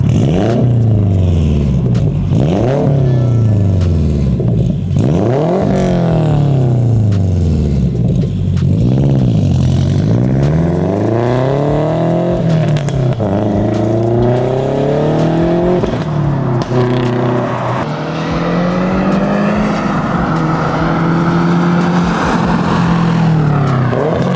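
Aftermarket exhaust on a 2022 Subaru WRX revs repeatedly, loud and close, with sharp rising and falling sweeps, then settles into a steadier higher drone near the end.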